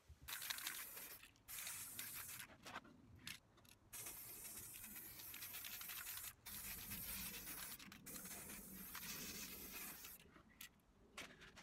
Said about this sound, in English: I bought some metallic spray paint, and I'm going to spray this box,